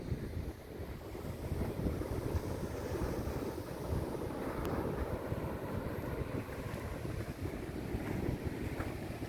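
A continuous wash of surf and wind roars close by at Pamunugama beach, with waves rolling in steadily and no voices.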